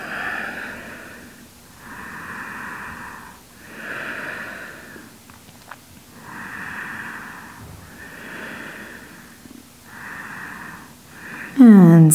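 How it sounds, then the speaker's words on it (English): Nasal breathing during a yoga session: slow, steady inhale and exhale cycles repeat about every two seconds, close and fairly soft, with no talk and a brief louder burst at the very end. "Keep breathing through the nose"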